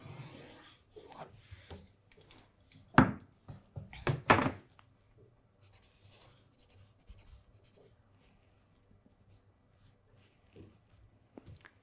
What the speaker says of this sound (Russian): И сейчас я обведу уже детали.